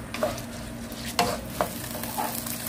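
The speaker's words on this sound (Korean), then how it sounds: "볶을 때는 센 불에다 해주셔야 돼요." Vegetables stir-fried over high heat in a pan for vegetable porridge, a soft steady sizzle with a few scraping stirs of a utensil, fairly quiet and with no talking.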